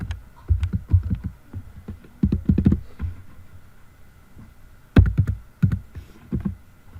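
Keystrokes on a computer keyboard come in irregular bursts of sharp taps, with a quiet pause between clusters, close and fairly clear.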